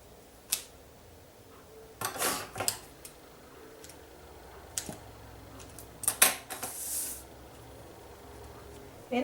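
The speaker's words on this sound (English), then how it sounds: "Just simply cut away with a clean kitchen scissors." Clean kitchen scissors snip away excess fringe on a cake pop decoration: several short, crisp cuts and clicks spaced irregularly, close by and fairly quiet.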